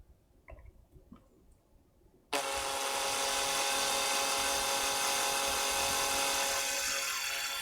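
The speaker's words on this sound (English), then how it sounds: "The trick to drilling steel is going really slow, and also putting as much pressure as you can" A power drill bores into steel, starting abruptly after a few faint clicks and then whining loud and steady with a harsh, grinding tone until the end.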